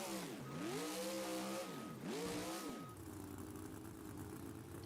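A monster truck engine at an indoor arena show revs loudly in two rising and falling surges, then settles into a steady, rough drone, close and dominant.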